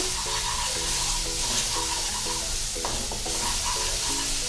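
Onions frying in a pan for chole, a dense continuous sizzle close by with repeated rhythmic stirring scrapes over a steady hiss, no talking.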